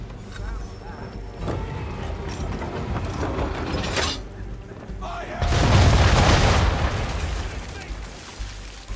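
Ship cannons fire at an enemy ship's bow during a naval battle in Assassin's Creed III, heavy booming blasts over steady creaking, rumbling background noise, with the loudest, longest burst of fire about two-thirds of the way through.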